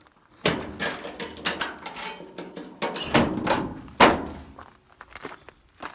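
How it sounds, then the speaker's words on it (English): A jeep's lowered windshield is fastened down, with a series of metallic clunks, thumps and rattles of latches and fittings at close range, irregular and spread over several seconds, no talk. "fasten that so the windshield don't try to get away from me."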